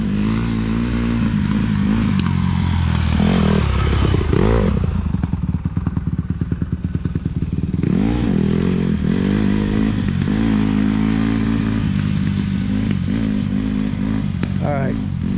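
Honda CRF150 dirt bike engine running loud and close throughout, with throttle swells and rough clattering thumps over uneven ground, while people talk over it.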